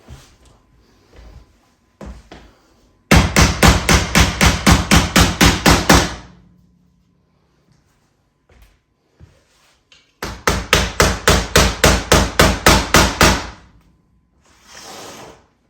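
Two rapid bursts of hammer blows, about a dozen sharp strikes each, ring out while parts of a 4x2x2 dubia roach enclosure are knocked together, with a few isolated taps between them.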